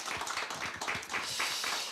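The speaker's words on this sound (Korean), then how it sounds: "우리 큰 박수 한번 보내주십시오" Audience in a church service clapping together, a dense, steady patter of many hands at moderate distance, continuing evenly throughout.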